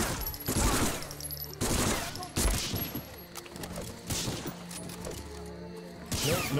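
Gunfire in the World War II shooter Medal of Honor: Frontline, repeated bursts of automatic shots and loud cracks in irregular clusters, close, with a voice talking between volleys.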